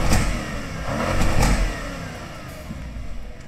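An Audi RS6 engine revs up twice in quick succession, loud and close, each rise swelling then easing back to a rumbling idle, with no talk.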